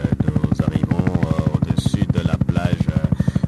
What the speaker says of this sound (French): L'hélicoptère va essayer de revenir.